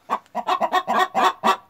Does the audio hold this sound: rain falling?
no